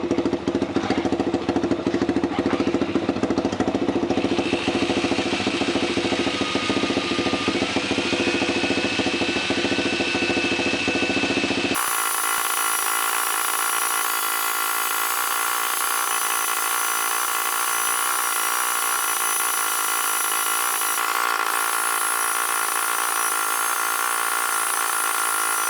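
A Honda 400EX ATV engine warms up and runs in gear, a steady, loud, unbroken drone that shifts abruptly to a brighter, harsher tone partway through and holds there to the end.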